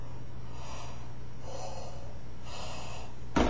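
A person imitates Darth Vader's wheezing breath with three slow, raspy breaths, close and steady, ending in a short louder burst.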